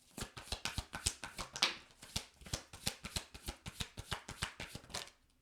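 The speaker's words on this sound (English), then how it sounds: "One more shuffle." Tarot cards riffle and tap in a quick, rhythmic series of crisp snaps, close and clear, with no talking.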